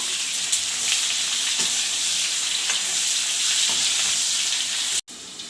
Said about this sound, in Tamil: இப்போ கட் பண்ணி வச்சுருக்கிற பாவக்காவை கொட்டி நல்லா வதக்கி விட்டுக்கலாம்